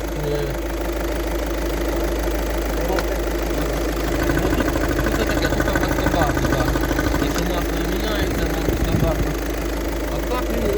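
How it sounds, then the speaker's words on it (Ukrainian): Car engine running at idle with a steady low rumble and faint knocking vibration, close by and constant, rising slightly midway, while someone talks over it. "Мотор робить в принципі нормально все"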